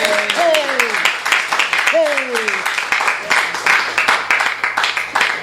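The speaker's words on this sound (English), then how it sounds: "From the master of style and suspense, let's please give a warm round of applause to Robert S. Levinson." Applause and clapping from an audience at a bookstore author reading, steady and fairly loud across the whole stretch, with voices calling out over it near the start and again around the two-second mark.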